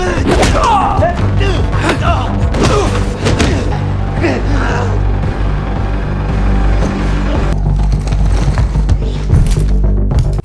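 A film gunfight rages as heavy thumps, booms and sharp impacts pile up densely over a loud rumbling score, with a voice briefly heard in the mix.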